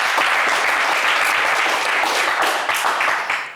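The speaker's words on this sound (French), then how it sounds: "On est généreux en applaudissements ici sur cette plateau." Sustained applause from a studio audience on a French TV game show set, dense and steady clapping that holds throughout before easing slightly at the end, with no talk over it.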